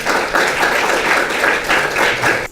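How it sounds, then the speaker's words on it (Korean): Audience at a theology graduate school lecture gives a big round of applause as Pastor Son Jae-ik comes to the front, lively close clapping that holds steady before cutting off near the end. "앞으로 나오실 때 큰 박수 부탁드립니다."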